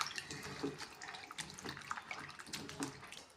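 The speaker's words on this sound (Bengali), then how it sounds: "এই দেখো কয়েকটা বাসন ধুয়ে" A few dishes washed under a running tap, with a continuous soft splash of water and light clinks of utensils, faint and close.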